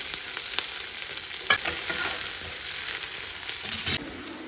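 Onion, mustard seeds, chana dal, urad dal, curry leaves and green chillies fry in hot oil, a continuous close sizzle with occasional crackles and stirring scrapes.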